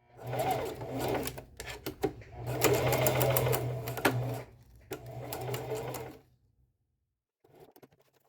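A home sewing machine stitches elastic onto a pajama pants waistband in several sustained whirring bursts with short pauses between them, then stops, leaving quiet handling noises at the end.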